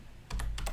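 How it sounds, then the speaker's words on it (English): A few quick keystrokes clack close by on a computer keyboard, four sharp taps in two pairs after a brief quiet start. "so I'll start typing out what I want"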